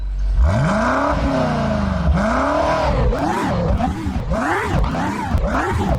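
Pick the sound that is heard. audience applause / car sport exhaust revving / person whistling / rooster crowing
car sport exhaust revving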